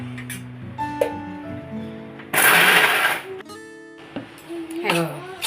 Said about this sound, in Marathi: त्याला मिक्सर चालवायचं झालं बरड थोडं थोडं करायचं